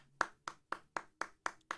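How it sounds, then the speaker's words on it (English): Seven steady hand claps in an even rhythm, each one sharp and distinct, fairly close with quiet between them. "We're gonna clap."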